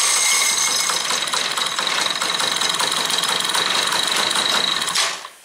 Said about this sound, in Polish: możemy w tym momencie, jak już mamy wszystko skręcone, uruchomić silnik